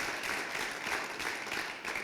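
An audience at a Leadership DeKalb education day event gives a round of applause, a steady, dense wash of clapping held for the whole stretch at moderate level.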